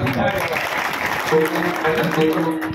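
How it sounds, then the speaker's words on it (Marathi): Villagers clap to welcome guests at a kirtan gathering in Devla, a steady wash of applause running throughout while voices sing or speak over it. "ग्रामस्थांच्या वतीने आपण टाळ्या वाजून त्यांचं स्वागत करू"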